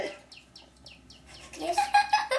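A small pet bird chirps indoors in a series of short, quick high tweets that start sparse and faint, then grow louder and busier, with a few brighter whistled notes near the end.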